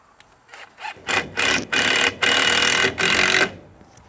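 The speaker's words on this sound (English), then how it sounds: "Let me get one screw in, which will help" A screw is driven into wood with a power driver while an air prune bed is built: several short whirring bursts that grow longer, ending in a steady two-second run, close and loud with no talk.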